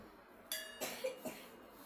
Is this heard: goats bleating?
no